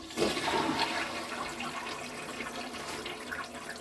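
A basement toilet stained with rust flushes in a steady rushing gurgle of water that runs for several seconds, close up and moderately loud, with no talking.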